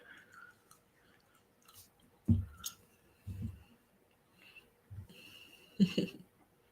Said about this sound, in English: I have to chew this gum because it's gross, but like my mouth, it just salivates.